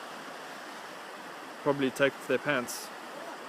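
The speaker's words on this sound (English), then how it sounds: "So I'm busy crossing the river here" River water rushing steadily through a crossing at Groot Winterhoek, South Africa: a constant broad wash of flow, with a voice briefly talking over it near the end.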